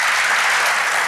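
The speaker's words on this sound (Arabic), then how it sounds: "صفقوا عليهم صفقوا عليهم." Studio audience applause on a television talk show, a loud, dense, continuous wash of clapping that fills the whole moment without pause.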